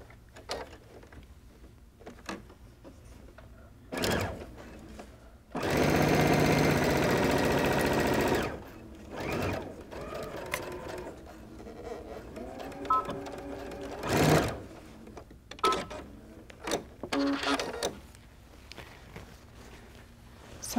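A home sewing machine stitches a dart on a linen-style Clara dress, with one loud continuous run of about two seconds among quieter handling clicks, fabric rustles and brief machine taps.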